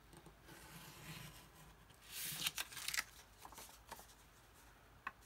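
Scissors snipping through paper by eye while shaping a seven-pocket envelope journal, a quiet run of crisp cuts and rustles clustered in the middle, close and faint with no talking.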